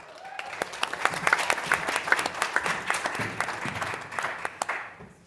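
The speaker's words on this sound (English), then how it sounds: "Please help me welcome to the stage and give a huge round of applause for the NAB Content Committee Chairperson, Laura Cantor, and our panelists today." Audience applause for a panel taking the stage at the NAB 30-year celebration, a steady wash of many hands clapping at moderate level, swelling through the middle and tapering off near the end.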